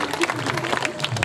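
An audience claps loudly and densely after a bhajan performance, a fast, continuous patter of hands mixed with some crowd voices.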